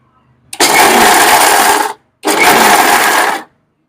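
A mixer grinder runs in two loud bursts, about 1.4 and 1.2 seconds long, grinding a mix of dry fruits, sesame and cardamom for nutritious laddus, with a brief pause between them and near silence at the start and end.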